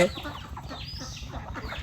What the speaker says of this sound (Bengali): আমাদের এখানে হাঁস মুরগি সবই আছে